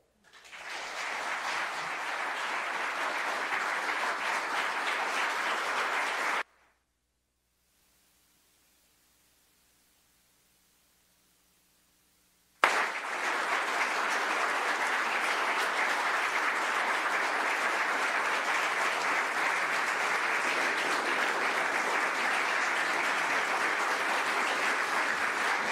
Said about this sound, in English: I appreciate the applause for coming back up.